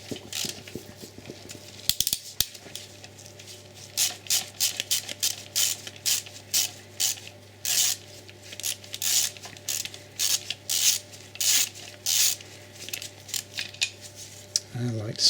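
Ratchet wrench repeatedly clicking as hex size 8 bolts are removed from gearbox mount brackets on an Audi RS6 (C5), rhythmic bursts of sharp metallic ratcheting close by, with short pauses between strokes and no talk.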